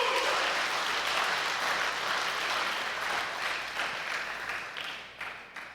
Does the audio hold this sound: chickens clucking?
no